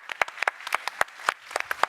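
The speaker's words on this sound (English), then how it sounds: "Another round of applause for our incredible speakers." A small audience at a 5G speaker-series panel claps for the speakers, a sparse handful of distinct, close claps in an uneven rhythm over two seconds.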